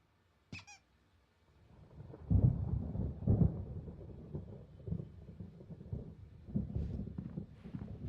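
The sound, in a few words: thunder of a storm in the video game Alan Wake Remastered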